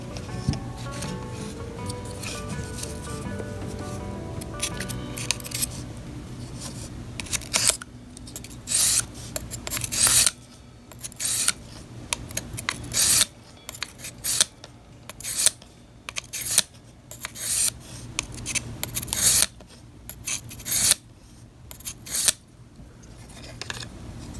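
A kitchen knife is stroked along a Smith's sharpening kit, keeping its original bevel at 20 and 25 degrees. Raspy scraping strokes come close up in a steady back-and-forth rhythm, loud and crisp, with no talking.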